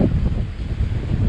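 Strong, roaring wind buffets a sailboat running downwind in about 30 knots past a lighthouse rock, a steady loud rush of gusts and water noise with no break.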